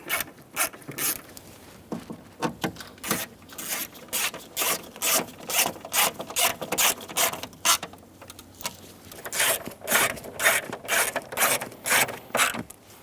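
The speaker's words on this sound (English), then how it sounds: "Install the 4 7mm screws for the kick plate." Four 7 mm screws are driven in to secure the kick plate on a 1988-1999 GMC K1500 pickup during an ignition switch job. Rapid ratcheting clicks and rubbing come in uneven, repeated bursts, close and fairly loud, with no speech.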